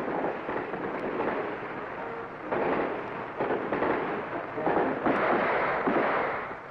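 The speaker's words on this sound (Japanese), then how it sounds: "戦闘訓練が終わり総仕上げの段階に入った射撃場。" Gunfire comes from a military shooting range during a 1973 North Korean training exercise. It sounds as muffled, overlapping bursts of shots and booms, moderately loud and slightly distant, over a dense rumbling background.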